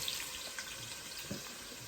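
Prawns being rinsed under running tap water in a home kitchen, a steady soft splashing stream heard close and alone, with no talk.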